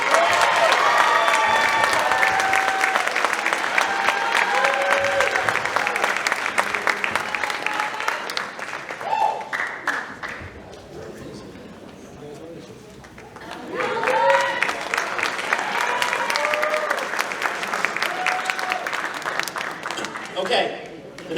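A crowd claps at a high school senior awards ceremony, broad sustained applause that dips into a quieter stretch around the middle and swells again, with a voice speaking over it through the PA.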